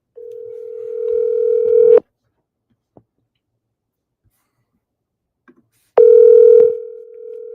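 A steady electronic telephone ringback tone from an outgoing call sounds for about two seconds, falls silent for several seconds, then sounds again, clear and close.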